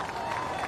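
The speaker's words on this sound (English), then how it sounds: "Crowd goes wild." A crowd on the beach at the Pipeline surf contest in Hawaii cheers and claps in a dense, continuous roar, held at a steady level for a brief moment.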